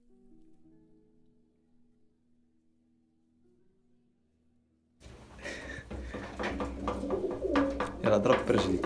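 Pigeons housed in a Marrakech loft alongside a cockatiel coo in a loud, busy chorus that starts abruptly after a few seconds of near silence, with people talking over it.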